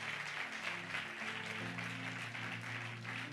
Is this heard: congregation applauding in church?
yes